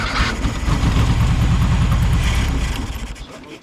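The engine of a 1976 Volkswagen Beetle, running again after years off the road, gives a steady, close, low, throbbing idle rumble that holds evenly and then tapers off near the end.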